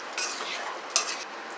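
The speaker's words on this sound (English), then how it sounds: "Give this a good stir" Spoon stirring coconut milk into a simmering bora and potato curry, soft wet swishing with a faint sizzle and a light clink of utensil against the pot.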